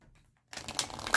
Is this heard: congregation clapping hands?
no